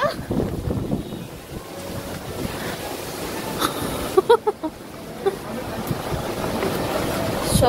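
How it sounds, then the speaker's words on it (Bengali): Strong storm wind blows dust outdoors, roaring and buffeting against the microphone in uneven gusts, with a few sharp knocks midway and faint voices in the background. "ভালোই বাতাস হচ্ছে,"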